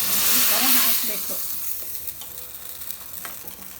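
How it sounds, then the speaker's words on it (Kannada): Spices tempering in hot oil for a Karnataka-style raw banana (balekai) curry sizzle steadily, a loud crackling burst up front that settles into a softer continuous hiss with scattered pops. "ಇವಾಗ ಇದು ಚೆನ್ನಾಗಿ ಒಗ್ಗರಣೆ ಚಟ ಚಟ ಅನ್ನೋ ಅಷ್ಟರಲ್ಲಿ ಇದಕ್ಕೆ ಈ ಥರ ಹಾಕಬೇಕು."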